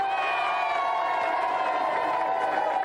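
A large studio audience at a 1993/1994 Gamesmaster game show cheers and whoops steadily throughout, a dense, continuous roar of voices and clapping with no pauses.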